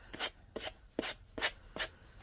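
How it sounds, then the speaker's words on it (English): A sanding block rubs along the edges of a painted cloche in five short, quiet scraping strokes at an even rhythm, close and soft. "you're just going to take your sanding block and go away from the paper and just kind of go along the edges"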